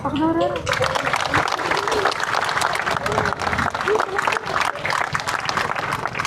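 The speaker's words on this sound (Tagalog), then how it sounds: "ay pumalakpak tayong lahat" A crowd claps continuously throughout at an Easter Sunday church celebration in Bulakan, Bulacan, dense and steady, with a voice and other voices audible briefly at the start.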